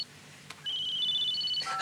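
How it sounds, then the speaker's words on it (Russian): Telephone ringing alone at close range: a bright electronic ring starts after a short pause and sustains steadily, with a brief click early on. "Никас, а телефон звонит."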